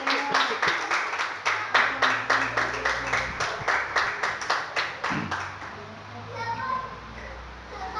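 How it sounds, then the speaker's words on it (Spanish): Church congregation clapping in unison, a steady rhythmic beat of many hands for about five seconds, then fading into scattered voices and a murmur of the room. "Denle un aplauso a Dios."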